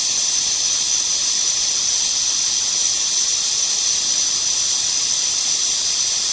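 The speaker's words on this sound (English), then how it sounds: "have propane liquid coming out of that thing. You can kind of see it starting to blow a little bit." Propane hissing steadily and loudly while a 1 pound tank is refilled from a larger tank, an unbroken bright gas rush with no pauses.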